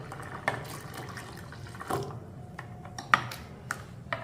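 Water trickles and splashes into a weight-loss drink mixture in a few soft pours and drips, close by and fairly quiet.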